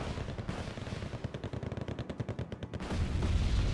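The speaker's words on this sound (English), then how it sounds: "that was definitely a bombing run right here, taking out quite a bit" Rapid bursts of gunfire and blasts from a bombing run in the video game Wargame Red Dragon, a dense rattling volley that stops abruptly, followed by a low rumble.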